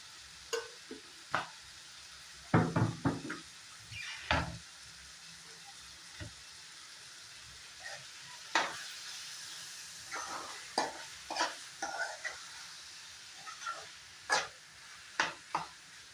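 Mushrooms with a little sugar cooking in a pan, with scattered sizzling bursts and scraping stir strokes coming and going at close range, separated by quieter stretches; a voice talks briefly.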